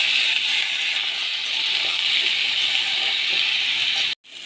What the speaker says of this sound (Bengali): সবজিগুলো দিয়ে দেবো। সবজিগুলো দিয়ে নেড়ে নেব।